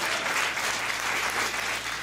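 Audience clapping steadily at a Hindi comedy poetry show, a dense, even wash of many hands heard alone for about two seconds at moderate level.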